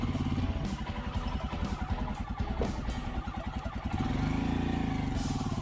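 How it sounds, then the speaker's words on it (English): A motorcycle engine runs steadily in first gear as the rider uses the clutch friction zone to ease it slowly forward, a close, continuous rumbling putter that grows slightly fuller toward the end. "use the clutch's friction zone to slowly pull the motorcycle up"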